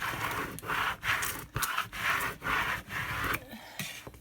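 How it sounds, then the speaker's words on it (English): A squeegee rubbed firmly back and forth over glitter heat-transfer vinyl on transfer tape, a close rhythmic scraping swish repeated about seven times, each stroke roughly half a second, with no talking. "Give it a nice rub with my squeegee."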